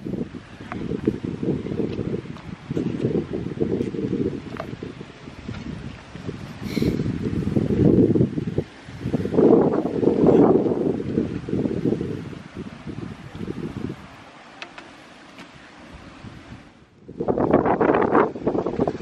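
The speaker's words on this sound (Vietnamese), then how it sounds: "Gió như bão này." Strong gusty wind blowing across a fishing lake, loud buffeting roar battering the microphone in long surges with a brief lull, rustle and faint splashes underneath.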